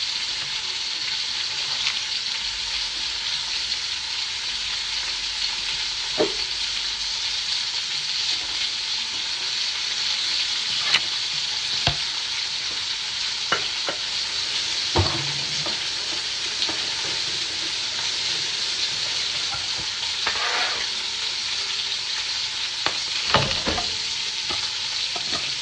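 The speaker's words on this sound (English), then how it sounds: "we'll take the meat out once it's fried on two sides" Seasoned, floured beef stew meat cubes frying in a pot, a continuous mid-level sizzle with scattered pops and clicks from the pot and utensil, no talking.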